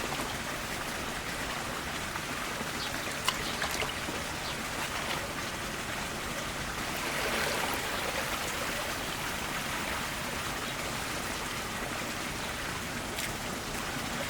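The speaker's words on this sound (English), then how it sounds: "that water is flowing clear" Water pours and splashes steadily while aquarium substrate is rinsed in a container, a continuous hissing, rain-like wash of flowing water with a few faint clinks.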